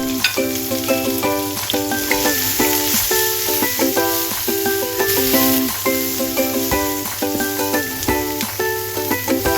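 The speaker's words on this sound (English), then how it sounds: "Toss in the pickled greens and sear over high heat until fragrant, about 1 minute." Pickled greens sear in a hot pan over high heat, a steady bright sizzle running throughout beneath loud, rhythmic background music, with no talking.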